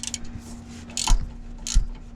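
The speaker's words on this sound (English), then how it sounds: "I found that the ratcheting wrench works the best for this, 18mm." An 18mm ratcheting wrench works on a Chevy Silverado steering stabilizer, giving a few quick metallic clicks and ratchet ticks in short bursts, close up against a quiet background.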